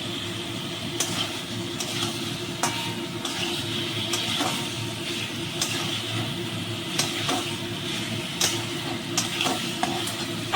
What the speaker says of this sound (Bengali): আমি আলু পটল এতে দিয়ে নিচ্ছি আর ডিমগুলো দিয়ে দিচ্ছি একসঙ্গে কষে নেব